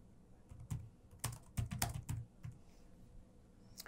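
A computer keyboard is typed on in short irregular bursts of crisp key clicks, close and quiet, as a file name is entered into control software.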